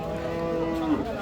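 Cattle lowing at a rural cattle market in Dinajpur, one long moo rising and held, then breaking off near the end over a steady background of market noise, with no voices.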